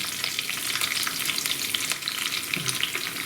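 Dried red chillies crackle and sizzle as they are stirred in hot oil for a cucumber chutney, a dense continuous close frying hiss with faint scraping of the spoon.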